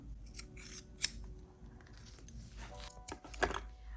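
Scissors cutting junk journal pages made from a painted master board, several sharp snips and crisp paper shearing close by, quiet between cuts.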